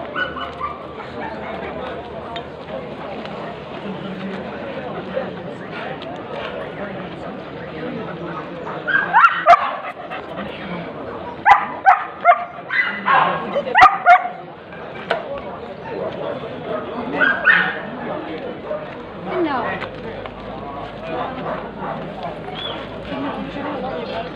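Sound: dogs barking at a dog market

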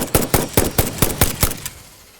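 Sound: rifle gunshots in the video game Satisfactory

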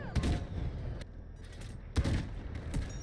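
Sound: gunfire at a tank turret in the video game Delta Force

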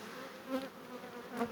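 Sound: honeybees buzzing on a hive frame

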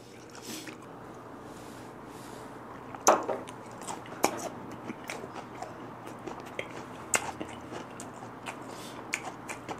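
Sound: chewing boiled bigfin reef squid

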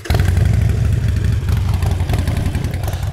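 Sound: Harley Davidson Iron 1200 engine starting, Vance and Hines exhaust

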